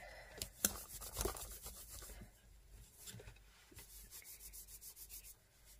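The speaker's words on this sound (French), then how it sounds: "je vais récupérer une petite lingette pour nettoyer" A small wipe rubs across a stencil used as a placemat, giving faint, soft, uneven scrubbing strokes close up, ending in a quicker run of short rubs, with no talk.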